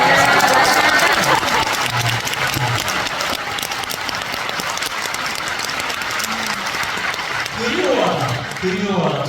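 An audience applauds during an author talk with a professor in Gwangju. Sustained, moderately loud clapping from a roomful of people runs through the middle, with a speaking voice before it and another rising again near the end.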